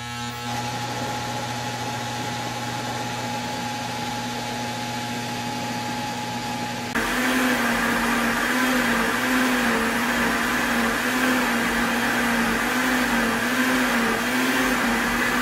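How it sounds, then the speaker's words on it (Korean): A steady vacuum blender motor whirs loudly throughout while making ginger tea, jumping to a higher, harsher grinding pitch about halfway through as it churns. "믹서기로 갈아봅시다."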